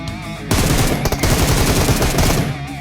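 M4 and M7 rifles exchanging fire in PUBG Mobile, a dense, rapid automatic volley that starts abruptly and rattles continuously for about two seconds, loud and close.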